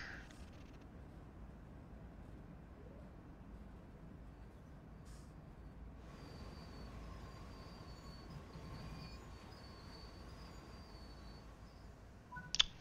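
Train stopping at a station in Train Sim World 3, a low rumbling rail hum with faint wheel and brake tones, quiet and steady, ending in a brief louder clatter.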